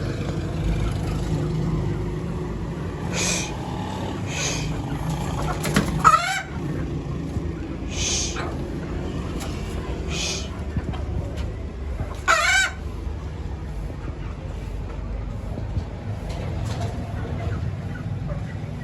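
Chickens cluck and murmur steadily in the background while roosters crow several times, two loud crows standing out near each other, with faint traffic noise.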